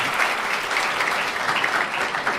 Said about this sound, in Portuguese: Peço uma salva de palmas em nome do diretor-geral, Coronel Pedro Augusto Lima Brandão.